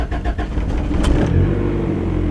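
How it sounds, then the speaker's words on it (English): Turbocharged Honda car engine cranking and catching, then revving with a rough, rising roar before settling into a loud steady idle, close by with no talking. "Start the car."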